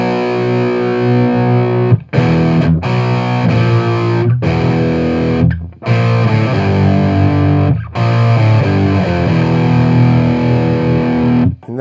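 Electric guitar played through a Bogner Ecstasy Mini 30-watt high-gain amp head, heavily distorted chords and riffs ringing out loud and continuous with short pauses between phrases, no talking.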